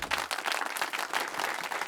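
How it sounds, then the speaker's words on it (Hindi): An audience at a children's quiz contest applauds loudly as a school team is welcomed, a dense steady wash of clapping throughout. "जोरदार तालियां उनके लिए"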